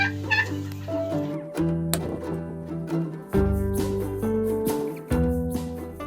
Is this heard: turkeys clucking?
yes